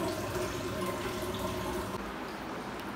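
Water poured into a flowerhorn fish tank during cleaning, a steady close rush of flowing and splashing water that continues throughout, with no talking.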